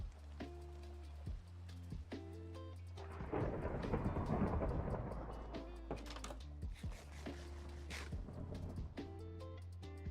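A thunderstorm in a video game rolls in as a loud rumble of thunder and rain, building then fading over a few seconds beneath steady, tonal background game music.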